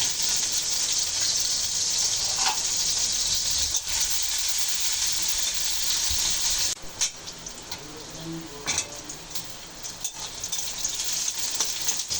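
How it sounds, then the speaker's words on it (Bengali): Green chillies and onion frying in hot oil in a wok for an okra and potato vegetarian curry, a loud, steady sizzle with a few clinks of stirring. No voices. "কাঁচা ঝাল আর পেঁয়াজ ভেজে নেব"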